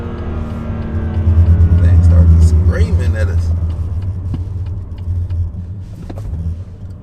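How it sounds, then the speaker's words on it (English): A BMW M2 Competition engine rumbles and swells in a quick rev as the car shifts down, heard from inside the cabin while people talk over it. "Rev match downshift"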